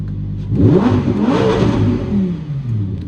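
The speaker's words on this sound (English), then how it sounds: "in sport and in Corsa, the valves are open, so it's intense, and you really hear the engine" A 2018 Lamborghini Huracan Performante engine revs hard up close with exhaust valves open in sport mode, its pitch climbing and then falling back in a loud, rough roar.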